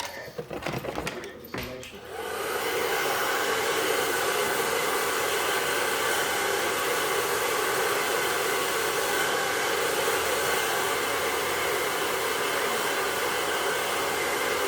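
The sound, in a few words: hair dryer blowing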